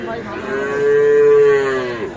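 A Sahiwal or Gir bull at a cattle market gives one long, loud, close moo that swells in the middle and tails off, with no talk over it.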